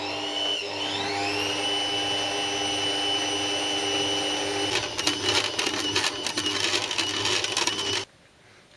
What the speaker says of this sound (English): the baking machine is gonna run for about 5 minutes on fullest power